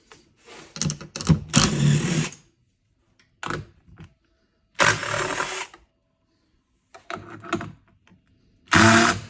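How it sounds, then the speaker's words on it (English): A 10 mm impact wrench removing front fender bolts from a Tesla Model 3, firing in several loud, close bursts of rapid rattling hammering separated by short silent gaps. "So you get your 10 millimeter impact, and you just go to town."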